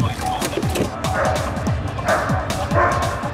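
A police dog unit's dog barks and yips rapidly and repeatedly at close range, over a noisy urban emergency scene with engine and crowd sounds.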